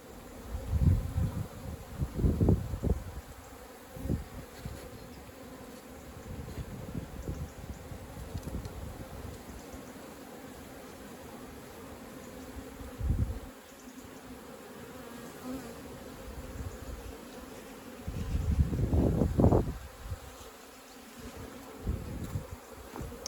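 Native honeybees buzz steadily and close during a hive rescue in Manacor, Mallorca, with louder swells as bees fly near, over rustling and light wind.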